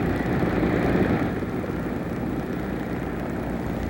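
Aircraft engine drone from a helicopter-style airlift carrying a large statue section for Our Lady of the Rockies, a steady loud rumble heard alone, slightly louder at first then holding level.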